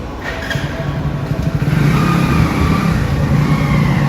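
Motorbikes revving and passing through a busy shopping mall parking area, a loud, close engine roar that builds and holds, steady throughout with no speech.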